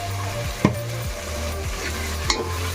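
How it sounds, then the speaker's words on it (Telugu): Chili powder being stirred into egg biryani masala in a pan, a spoon scraping in steady strokes over a soft frying sizzle, with a couple of sharper knocks against the pan. "కారం వేసిన తర్వాత ఇలా కలుపుకోవాలి ఒకసారి."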